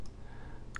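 A single soft computer mouse click right at the start, and a second faint click just before the end, with a low steady hum underneath.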